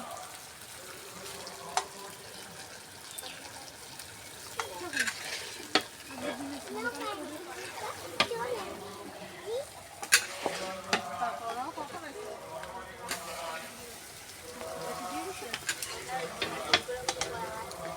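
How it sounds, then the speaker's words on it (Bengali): Pachan cooking in a pot, stirred with repeated scraping strokes over a steady sizzle of frying, with occasional watery splashes and people talking nearby. "আমাদের পাচন রান্না হচ্ছে বন্ধুরা পাচন দেখো"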